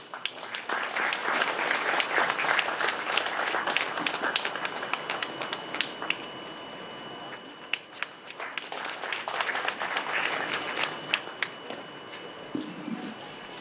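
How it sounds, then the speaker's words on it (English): Audience applause fills a hall at a National Voters' Day 2021 event in Chennai, a dense, steady wash of many hands clapping for most of the stretch, dipping briefly midway, then swelling again before fading. "Kindly clap."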